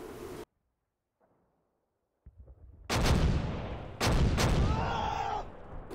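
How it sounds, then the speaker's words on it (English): Two-inch and three-inch mortars firing in a demonstration: after near silence, faint distant thuds build into a heavy booming barrage of overlapping blasts and rumbling reports that continue for several seconds. "that's the mortar support dropping"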